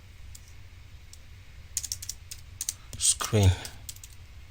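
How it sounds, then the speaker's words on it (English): Someone types on a computer keyboard in short bursts of light, quick key clicks. The clicks are close and quiet, and a voice speaks briefly partway through. "I'm simply gonna type there"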